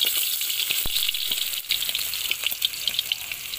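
Onions sauté in oil for kinunot na pagi with malunggay, giving a continuous close sizzle with scattered pops and crackles that stays steady throughout.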